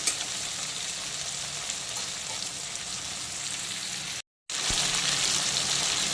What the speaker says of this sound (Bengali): চিংড়িগুলো কিন্তু একদম হালকা ভাজা হয়ে গেছে